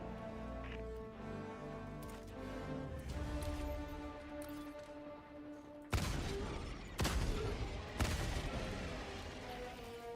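An autocannon blasts away in a VHS-style horror video game, loud broadband bursts swelling through a dense, droning game soundtrack, with two sharp heavy hits standing out near the end.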